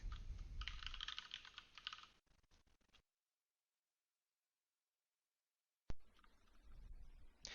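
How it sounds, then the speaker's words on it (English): Typing on a computer keyboard to enter a gene ID into a search bar, a dense run of clicking keystrokes for about three seconds, then silence, then a second burst of key clicks. "type the gene ID in the search bar and hit go."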